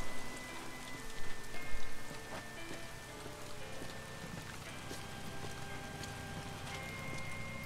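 Steady rain pattering on surfaces in the Metal Gear Solid Ground Zeroes game, a dense hiss with scattered drips and a few faint low thumps, quiet and continuous throughout with no talking.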